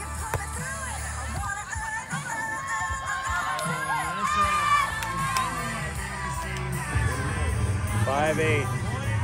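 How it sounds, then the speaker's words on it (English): Crowd noise drifts over from a nearby football stadium, a continuous roar of cheering and shouting with music mixed in, steady and fairly loud throughout. "A lot of noise here. We got the football stadium behind us with music playing."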